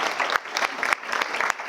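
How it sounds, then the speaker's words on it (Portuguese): Audience applause at a business club presentation, a brief burst of steady clapping from a room full of people, fairly close and even in density with no voices on top. "uma salva de palmas."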